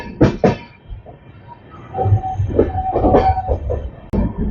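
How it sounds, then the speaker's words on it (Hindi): A Jhajha–Patna fast passenger train with LHB coaches pulling out of a station, loud rolling rumble with rail clatter and a horn-like tone, close by, with no talking. "डॉट ऑन टाइम 4 बजे डिपार्चर हो गया अपनी ट्रेन का।"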